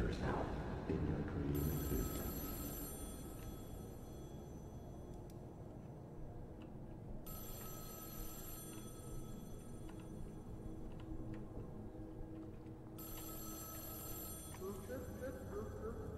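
A telephone rings in the horror video game Spectral Mall, three long electronic ringing bursts repeating at regular intervals over a steady low ambient drone.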